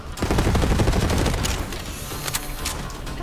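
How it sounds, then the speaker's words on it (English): Rapid submachine gun fire in the video game Borderlands 3, loud and dense, with a sustained burst up front that thins into scattered shots and echoing impacts. "Be a pretty nasty submachine gun."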